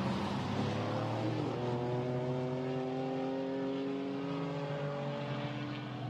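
A GT4 race car in qualifying at Spa-Francorchamps drones past, its engine note climbing steadily through the gears. The engine sounds a little distant and is heard alone for the whole stretch.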